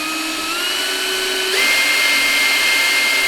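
A power drill whines steadily while boring holes in a narrowboat, its motor pitch rising slightly partway through as the bit bites, loud and close with no speech.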